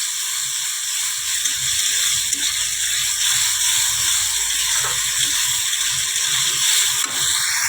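Spice masala being sautéed in a pan, a continuous loud sizzling hiss with faint scraping and clicks as it is stirred, steady throughout with no talk.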